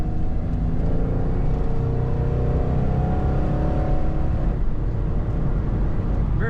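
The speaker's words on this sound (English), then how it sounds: "Very good acceleration in this Firebird." A 1996 Pontiac Firebird pulls hard under acceleration, a steady close engine drone with rising tonal bands over about six seconds, no talk.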